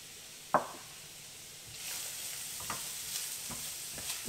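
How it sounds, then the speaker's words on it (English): Chopped onion drops into melted coconut oil with a sharp splat, then settles into a steady, moderate sizzle with small pops and stirring scrapes, close by and with no voices. "To the coconut oil, I will add the onion."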